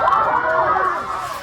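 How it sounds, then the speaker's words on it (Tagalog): Crowd at a Muslim nikah wedding ceremony cheering and shouting as the bride enters, a steady, dense roar of many voices without pause. "Pagpasok ng bride, hiyawan ang lahat"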